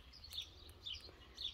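Many birds chirping and calling outdoors in the morning, short high tweets repeating in a few bursts at moderate distance, with no talking.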